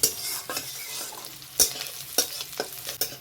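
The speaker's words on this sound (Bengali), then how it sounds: "পেঁয়াজটাকে গোল্ডেন কালার অবধি আমি ভেজে নেব।" Chopped onions fry in a pan toward golden brown, a steady close sizzle broken by several louder bursts as they are stirred, with no voices.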